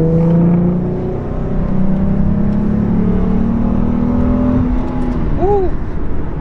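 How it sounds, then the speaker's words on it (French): An American V6 car accelerates from the driver's seat, its engine note rising in smooth drawn-out sweeps through the gears, loud and close, with a brief whine near the end; no one speaks. "On accélère."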